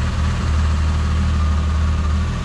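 A 1973 Ford F-100 4x4 pickup's large engine idles steadily with a deep, low rumble, continuous and close by, with no voices.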